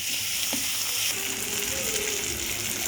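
Fish curry ingredients fry steadily in a pan, a continuous close sizzle with occasional scraping as they are stirred, no voices.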